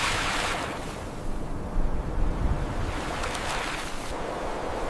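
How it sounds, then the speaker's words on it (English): Wind sweeps across a Patagonian lake while waves lap the shore, a continuous rushing wash with gusty surges, steady and fairly loud, with no voices. "Wind disturbs the water"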